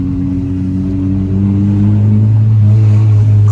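Honda Civic Si engine revs up close after fresh NGK spark plugs go in, a steady mid-low drone climbing gradually in pitch over a few seconds with no talking.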